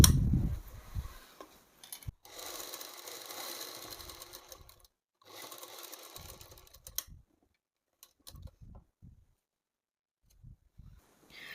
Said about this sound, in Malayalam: ഒരു സ്റ്റിച്ചും കൂടി കൊടുക്കാം